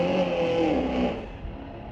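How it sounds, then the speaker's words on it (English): A pair of Corvettes drag race at Mission Raceway during a night of street-legal drags, heard as a close engine roar with a whining tone that drops in pitch as it passes, then fades away. "Another pair of Corvettes."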